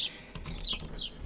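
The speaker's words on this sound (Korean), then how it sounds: "집 앞에서 참새 짹짹" Sparrows give a few quick, high chirps, faint and a little distant, over a soft low rumble.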